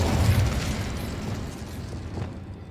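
The Incendio fire spell is cast in the Hogwarts Legacy video game, a loud whooshing burst of flame that booms at the start and then fades over a couple of seconds, with no talk.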